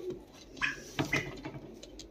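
Pigeons kept in a cage among chickens and turkeys give soft, brief coos and calls, faint and close, with no one talking.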